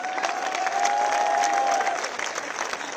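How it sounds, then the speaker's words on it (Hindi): Audience applauding in celebration at a CJP protest rally in India, a steady, dense wash of clapping from a large crowd close by, with a faint sustained tone running through the middle. "इसका हम जश्न मनाएं तालियों के साथ।"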